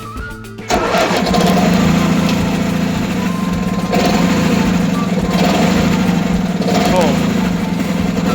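A John Deere 316 lawn tractor engine cranks briefly, catches and settles into a loud, steady idle close by, with a person talking over the running motor.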